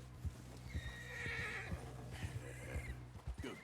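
A horse in the Red Dead Redemption video game lets out a whinny over steady, rhythmic hoof clip-clops, fairly quiet and with no talking.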